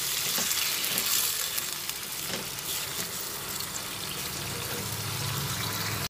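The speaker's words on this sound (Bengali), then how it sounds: "জল দিয়ে আবার ভালোভাবে এটা নাড়াচাড়া করে নিচ্ছি।" Potol aloo curry (pointed gourd and potato) is stirred in a hot pan after a little water is added. Continuous sizzling and bubbling with scraping stir strokes runs for about six seconds, close and with no voices.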